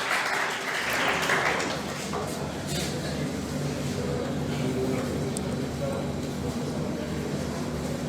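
Audience applause at a coaching institute's celebration for NEET-2020 toppers, greeting a top-scoring student called to the stage; steady, dense clapping fills the hall for several seconds, with a low hum and voices underneath.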